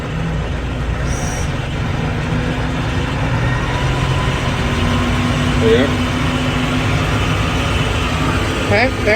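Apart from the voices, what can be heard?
New Holland tractor running mower via PTO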